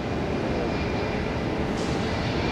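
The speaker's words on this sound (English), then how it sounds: "Runway 1 left, quick takeoff." Airplane taking off from a runway at Tampa International Airport, a broad steady roar of jet engine noise heard from a distance, with no talk.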